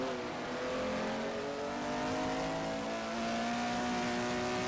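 Racing game car engine at Mount Panorama approaching the chicane: a steady, moderately loud engine whine with shifting pitch as the car brakes and drives on, with no voices.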